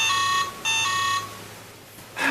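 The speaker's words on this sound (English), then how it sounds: "I think that's the attack sound." A repeated electronic alert tone from a tabletop or video game attack, two bursts of steady harmonic beeping followed by a brief noisy onset, heard alone without talk.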